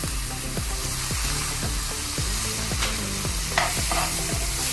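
Tomato puree sizzles in a pan while being stirred for Punjabi aloo, with a constant hiss under rhythmic scraping strokes repeating about every half second, close and loud.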